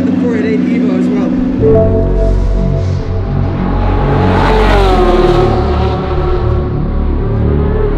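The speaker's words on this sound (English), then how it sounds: "we're gonna drive the 488 Evo as well" A Ferrari 488 Evo race car on a racetrack revs loudly nearby, a deep throbbing engine note climbing into a strong rising howl, then settling into a steady pulsing rumble.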